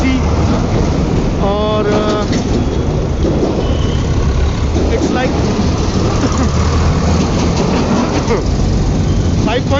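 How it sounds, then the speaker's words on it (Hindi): Dense, continuous road traffic noise in Delhi, a steady loud rumble of engines with a few horn-like tones, under someone talking throughout. "मेरी आवाज़ कितनी कुछ साफ आ रही है क्योंकि इतने ट्रैफिक भी है बहुत ज़्यादा"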